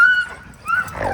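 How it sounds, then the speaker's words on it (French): A Siberian husky lets out a short, high whine, then a second brief yelping whimper, close by, at a dog farm in Quebec. "Principalement des Huskies sibériens."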